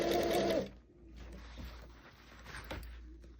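A sewing machine stitches and back tacks on a leather jacket sleeve, with a loud half-second burst of rapid needle whirring, then quieter handling noises and faint clicks.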